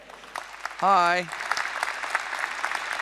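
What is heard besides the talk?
audience applause welcoming a speaker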